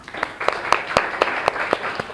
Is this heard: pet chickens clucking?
no